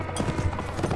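Horse hooves drum in a rapid galloping clip-clop during Mount and Blade Warband battle gameplay, close and steady over a low rumble, with no talking.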